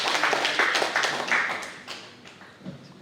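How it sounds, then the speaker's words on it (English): Applause from an audience at a company launch event, a burst of clapping that is loud at first and then fades out over a few seconds. "Let's give him a round of applause."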